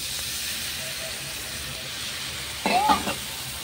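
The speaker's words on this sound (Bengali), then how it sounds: "হলুদ, লঙ্কার গুঁড়ো, একটু জিরার গুঁড়ো দিয়ে দিয়েছি, দিয়ে মশলাটা করছি।" A masala of turmeric, chili powder and cumin powder fries in a pan with a steady, close sizzling hiss. A brief louder stirring scrape comes near the end.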